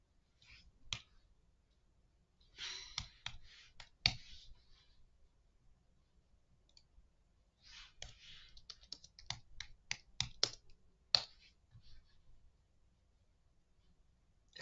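Someone types on an Apple computer keyboard, close and quiet, in scattered bursts of sharp key clicks separated by pauses.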